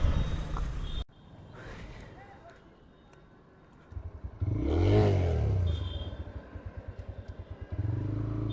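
A TVS Raider 125 motorcycle engine idles and revs while the gears are shifted. The engine swells with throttle blips and settles into a pulsing, rhythmic idle at moderate volume, and a voice is heard in places.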